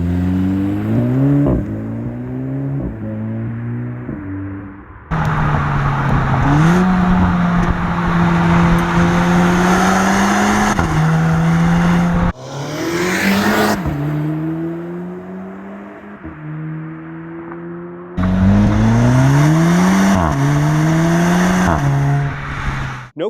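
Audi S3 (8V) engine with a dual-clutch transmission revs hard through quick upshifts and downshifts, the loud rising engine note breaking sharply at each gear change, close and alone.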